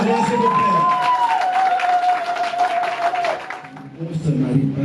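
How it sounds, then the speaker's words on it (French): Wedding guests applauding in a hall, a dense patter of clapping beneath a sustained tone and a speaker's voice, easing off near the end as talk resumes. "Des applaudissements des filles de droit, s'il vous plaît."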